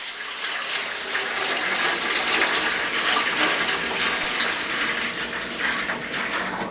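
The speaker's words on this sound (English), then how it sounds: "Our pitcher is filling." Tap water gushes steadily into a pitcher, a continuous close splashing and rushing fill used for brewing a Mr. Beer West Coast Pale Ale, with no voices over it.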